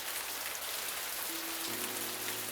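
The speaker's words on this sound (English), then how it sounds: "Well, we can't go back with the rain coming down so hard." Heavy rain pouring in a visual novel game scene, a dense, steady hiss of downpour filling the whole clip, with a faint low tone entering partway through.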